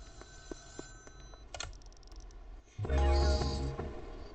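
A telephone rings in a crime-adventure video game with police: a sharp electronic ring bursts in over soft clicks and game sounds, then louder game noise follows.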